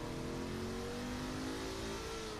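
A car engine revs steadily in the open-world crime game Saints Row The Third, a continuous loud mid-pitched drone with a slowly rising tone and no pauses.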